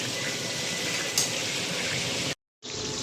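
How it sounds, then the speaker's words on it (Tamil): Chopped onions sautéing in a pan for chicken maqluba, a steady soft sizzle throughout that cuts out briefly near the end before resuming. "வெங்காயத்தை நல்லா வதக்கிக்கலாம்"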